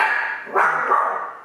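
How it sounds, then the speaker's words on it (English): A pet dog indoors near an open glass door lets out a single loud bark, close by, over a steady background hum. "Excuse my dog."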